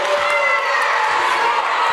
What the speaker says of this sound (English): round of boos from the Pacer crowd